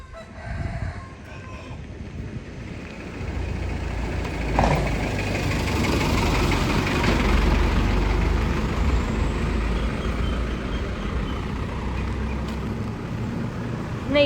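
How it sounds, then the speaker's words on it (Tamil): A vehicle engine rumbles low as it draws closer and settles into a steady idle, growing louder after a few seconds and staying near for the rest, with faint voices in the background. "வண்டி வருதுரி."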